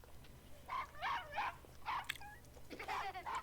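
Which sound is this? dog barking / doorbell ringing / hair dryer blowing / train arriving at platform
dog barking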